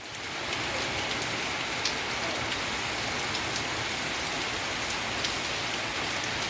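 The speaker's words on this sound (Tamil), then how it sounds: "ஏரி சாலை, அண்ணா சாலை, மூஞ்சிக்கல் உள்ளிட்ட பகுதிகளில் இன்று 1 மணி நேரத்திற்கும் மேலாக மழை வெளுத்து வாங்கியது" Heavy rain pours over the roads of Kodaikanal, a hill town in Tamil Nadu, as a dense, steady hiss of drops hitting the surfaces all around. The downpour is loud and unbroken, with no voices.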